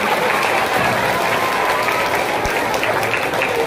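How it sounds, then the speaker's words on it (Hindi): An audience at a school Children's Day event applauds to welcome a teachers' drama, dense and steady clapping close by throughout, with no speech. "हम सभी तालियों के साथ उनका स्वागत करते हैं"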